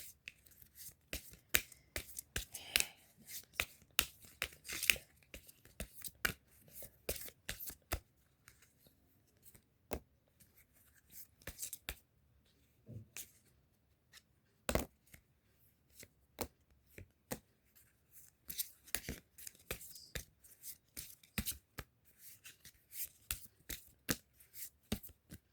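Tarot cards being shuffled and handled, giving a long run of quiet, scattered snaps and riffling flicks that come in irregular bursts with short pauses between them.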